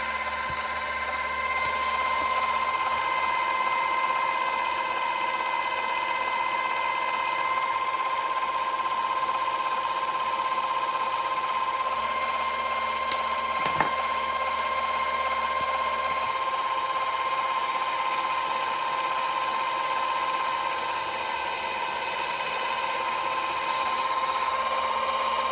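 A small 3D-printed lathe motor runs steadily at moderate volume with a constant whine, holding its tone throughout and interrupted only by a single brief click partway through.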